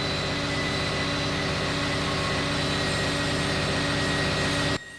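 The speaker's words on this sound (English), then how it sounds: "a pair of locomotives assisting the train uphill with the sound of their mighty engines" A pair of Norfolk Southern SD40E diesel helper locomotives push a freight train uphill on the Pennsylvania grades, a steady, loud droning engine roar with a constant hum that holds evenly before cutting off abruptly near the end.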